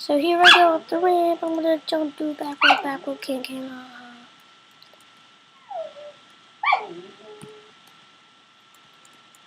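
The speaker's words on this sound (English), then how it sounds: "if you can hear that, that's just my dog" A dog barks and whimpers in short bursts nearby, mixed with a person talking over motocross video game sounds.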